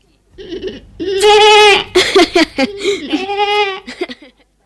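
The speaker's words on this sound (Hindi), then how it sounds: "बिन्नी आश्रम की एक बकरी थी।" An ashram goat bleats in a few wavering, nasal calls, close and fairly loud, with short pauses between them.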